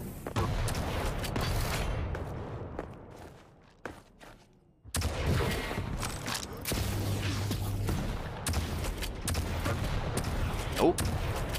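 Rocket explosions and gunfire in a Quake 1v1 match, with repeated shots and blasts, a quieter gap with a few isolated hits, then renewed firing and footsteps, under commentary.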